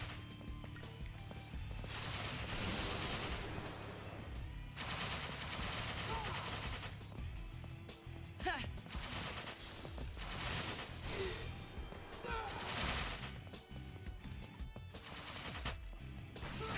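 Enemy gunfire in the battle of the video game Final Fantasy XIII: repeated bursts of shots and impacts crackling over battle music, sustained across the clip, with a voice talking over it now and then.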